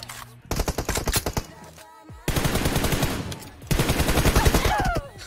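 Loud, close automatic gunfire in a mobile shooter game's team deathmatch, with three sustained rapid bursts separated by brief gaps.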